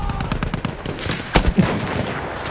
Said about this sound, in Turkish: Makinalı tüfek, çabuk olun.